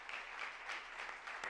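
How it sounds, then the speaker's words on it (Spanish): Audience at a round-table panel discussion on Andalusian food culture applauds steadily for a second and a half, a dense, even wash of clapping with no voices over it. "Un aplauso."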